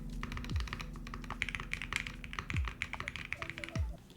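Close, rapid typing on a QK75 mechanical keyboard, a steady clatter of key presses with a few low thumps mixed in.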